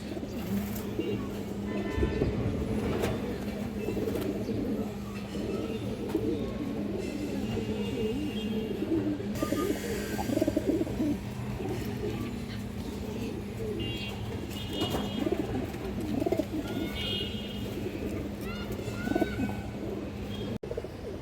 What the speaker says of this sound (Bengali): আর একটা খুব সুন্দর মাদি কবুতর